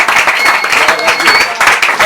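A church congregation at a worship service applauds loudly, a dense, continuous patter of many hands with voices cheering over it.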